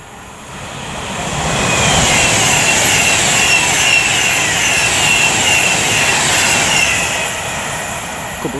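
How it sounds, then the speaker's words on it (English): Avanti West Coast Class 390 electric train 390-157 approaching on the West Coast Main Line at Lichfield Trent Valley, a rushing roar that swells loud within two seconds, holds for several seconds, then eases slightly. "now approaching with 390-157 Chad Vara for Avanti West Coast, working 1 Alpha 53 from Manchester Piccadilly to London Euston."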